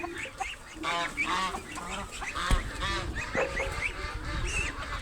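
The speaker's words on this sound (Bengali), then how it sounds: "ওদের একটু কিচিরমিচির ডাক আপনাদের শুনিয়ে দিলাম" Ducks and chicks on a homestead poultry yard call and chirp in a busy, overlapping stream of honks, quacks and peeps, fairly close and steady throughout.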